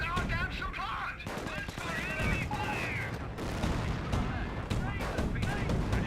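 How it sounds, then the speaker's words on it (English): Artillery fire from a British officer's barrage in the Company of Heroes strategy game, with dense continuous battle noise and booms mixed under someone talking throughout. "looks like that officer artillery from the Brits"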